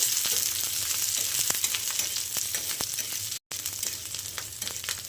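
Garlic frying in a hot pan for a Maharashtrian misal, a steady close sizzle with crackling pops throughout and one very brief dropout.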